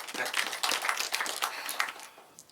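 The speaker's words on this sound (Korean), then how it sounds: "박수 보내주세요" Audience clapping at a high school student debate in Korea, a modest group applauding in a quick, uneven patter that thins out toward the end.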